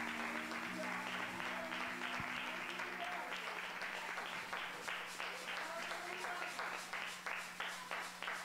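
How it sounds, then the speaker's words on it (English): A church congregation claps hands in a fast, steady rhythm during a worship service, the dense crackle of many hands blending with organ tones and voices underneath. "Let's clap our hands unto the Lord."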